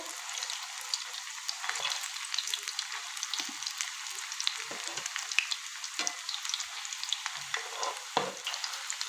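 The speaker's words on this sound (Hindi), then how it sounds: "ये देखते हैं फ्राई हो चुके हैं एक तरफ से" Potato and gram flour cutlets frying in hot oil, producing a continuous crackling sizzle with scattered pops, steady and close without any talking.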